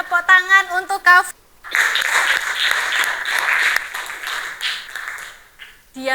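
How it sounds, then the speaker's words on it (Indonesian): Classroom students clap together for a pupil, a dense burst of applause lasting about four seconds after a short spoken request, then fading. "Boleh tepuk tangan untuk Kafa."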